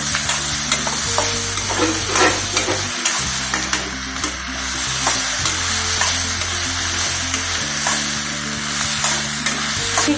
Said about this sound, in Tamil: நாலு தக்காளி சேர்த்து நல்லா வதக்குங்க